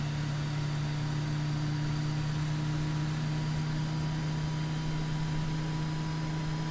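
An aircraft engine in Microsoft Flight Simulator spins up to a steady, droning hum with a constant low tone, even and continuous throughout with no talking.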